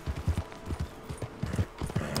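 Horse hooves clip-clopping at an easy walk in the video game Red Dead Redemption 2, with a steady, fairly close rhythm of hoofbeats and no talking.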